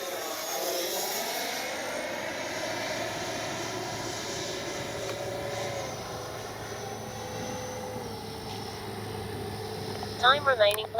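A Freewing 80mm Avanti S V2 RC electric ducted-fan jet flies in with its landing gear down, giving a steady mid-distance whine and rush that holds throughout, with brief clattering noises near the end.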